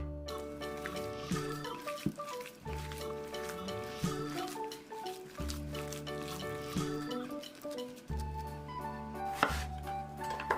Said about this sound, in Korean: 야채를 썰어줍니다.